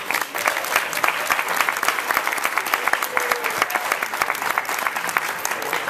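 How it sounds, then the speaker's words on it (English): A convention audience applauds, a dense, steady clapping from a large crowd that fills the hall, loud and continuous throughout. "Give yourselves a big round of applause."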